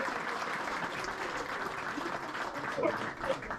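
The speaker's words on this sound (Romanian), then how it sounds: "Pe locul 6, aplauze vă rog pentru Ionuț Ciocan și Adrian Sârbu." Outdoor crowd at a method feeder fishing contest on a lake applauding winners, a steady, moderately loud patter of clapping with faint voices mixed in.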